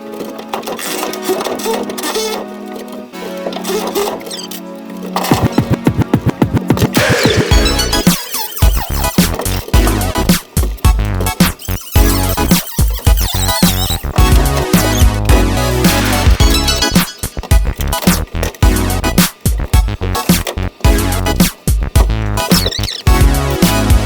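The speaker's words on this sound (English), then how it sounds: "I'll use a Sawzall to cut this fiber cloth." A Sawzall reciprocating saw cuts through fiber cloth on a Toyota Sunrader truck camper shell, loud harsh buzzing that starts after a few seconds and runs in bursts with brief stops.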